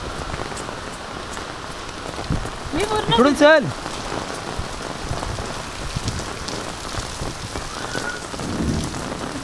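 Heavy monsoon rain pours down in a sudden Maharashtra storm, a dense, steady hiss on surfaces, while someone speaks briefly partway through.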